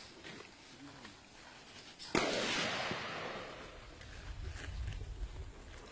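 A single sharp gunshot from a SWAT officer firing in a kneeling position on an outdoor range, cracking loudly and rolling off into a long echoing tail amid wind noise.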